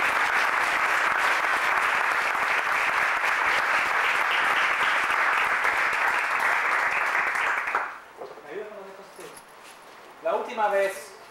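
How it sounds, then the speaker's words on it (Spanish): An evening lecture audience applauds a guest speaker with sustained, even clapping for about eight seconds that stops abruptly, followed by a few faint rustles and brief murmurs. "quiero entonces pedirle un aplauso a nuestro invitado esta noche"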